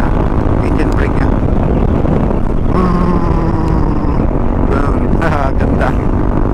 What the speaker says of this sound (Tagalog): Gusto ko yung tunog ng ano niya, engine brake niya.